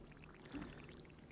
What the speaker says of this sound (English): just take some water out of the swamp